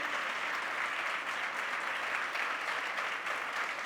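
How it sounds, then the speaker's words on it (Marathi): A church congregation at a Monday discipleship meeting claps for Jesus, a sustained, fairly distant wash of many hands clapping with no talk over it. "give a big clap to Jesus"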